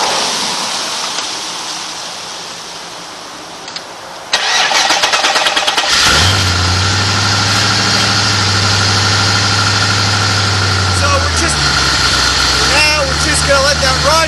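A car engine cranks and catches during a cooling system flush, then settles into a loud, steady close idle that drops slightly in pitch as it runs on.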